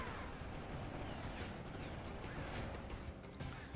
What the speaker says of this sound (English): There's rockets.